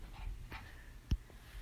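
Dogs bark and whimper indoors, giving a sharp close yelp partway through among faint whines and low background rumble, with no talking.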